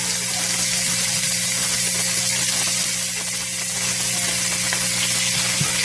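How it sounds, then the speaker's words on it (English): Steak searing in butter in a hot pan for an easy steak dinner, giving a steady, close sizzle and hiss that runs unbroken with no talking. "you just want to get another good sear on it"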